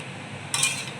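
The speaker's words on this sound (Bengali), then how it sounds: "মাংসটা আমার ভালো করে কষা হচ্ছে, আর ভালো করে কষিয়ে নেব মাংস আমি" Duck meat is stirred and fried in a pan: a brief scraping clatter of a utensil against the pan rises midway over a steady low background hiss.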